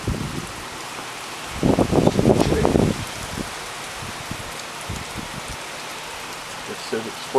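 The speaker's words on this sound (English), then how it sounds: "Well, it's another rainy day." Cold, windy rain falls outdoors as a soft, constant patter, with scattered louder bursts of nearby rustling and someone talking over it for a couple of seconds.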